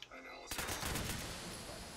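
Rapid pistol fire shooting at robots in Fallout 76 bursts in after a brief quiet lead-in, a dense run of loud game gunshots and impacts.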